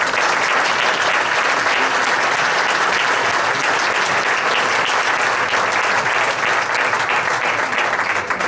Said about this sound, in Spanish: demos un aplauso de bienvenida a don Carlos Comesaña Figueroa